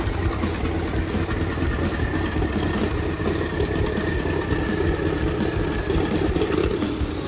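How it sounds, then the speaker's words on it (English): A turbocharged Harley-Davidson motorcycle engine idles smoothly and steadily, a low continuous rumble with an even pulse, close and moderately loud with no voices. "I was finally able to get a nice, smooth, stable idle and a nice startup."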